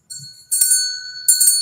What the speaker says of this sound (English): wow, where's my bell?